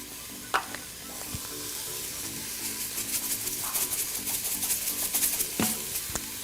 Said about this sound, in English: saute until the vegetables are a little bit soft